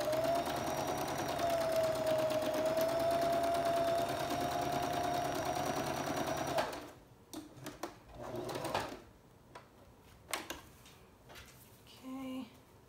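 A sewing machine stitches lace onto water soluble stabilizer in one steady, fast run for several seconds, then stops, leaving scattered close handling clicks and fabric shuffles as the work is pivoted.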